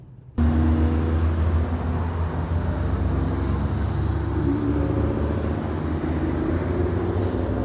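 A BMW track car circulates at Brands Hatch, its engine a steady, continuous rumbling drone that holds at a moderate, somewhat distant level from start to finish.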